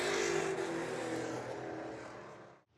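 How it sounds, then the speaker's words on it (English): Stock cars roar down the back straightaway at Eagle Raceway, a loud sustained engine drone with rising and falling revs that fades out at the end. "Stock Cars coming down the back straightaway"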